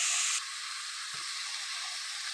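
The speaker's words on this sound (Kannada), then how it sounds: "ಬೀಟ್ರೋಟ್ ತುರಿ ಹಾಕ್ತಿದ್ದೀನಿ ಫ್ರೆಂಡ್" Grated beetroot tipped into a hot pan gives a steady, close frying sizzle and hiss, with a brief soft thud of the shreds landing partway through.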